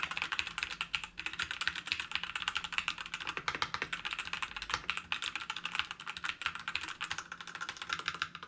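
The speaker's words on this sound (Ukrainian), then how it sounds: "Клавіші натискаються чітко, контрольовано та плавно. Не було помічено скрипів чи люфтів, та й звук приємний і не надто гучний." Steady typing on an Xtrike Me GK-995W 65% mechanical keyboard with red switches, a dense run of soft, even keystrokes at close range that carries on throughout, moderately quiet, with no talking.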